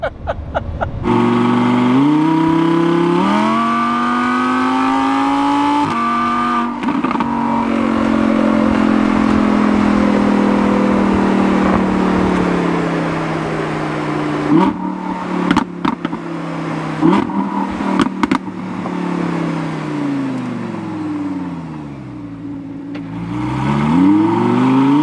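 Purple Lamborghini Huracan LP610-4 engine revving up and down through the gears, loud and close, rising and falling whine with sharp crackling exhaust pops between the pulls.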